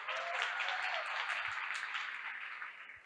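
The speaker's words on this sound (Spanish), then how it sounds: "Uma salva de palmas," Sustained audience applause fills a hall at an academic event on telehealth, dense steady clapping from many hands that holds for about three seconds before tapering slightly at the end.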